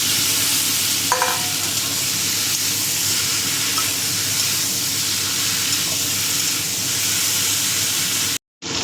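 Ash gourd pieces sautéing in a pan with ginger-cumin paste for a prawn curry, giving a steady, continuous sizzle with faint stirring scrapes throughout and no talking, briefly cutting out near the end.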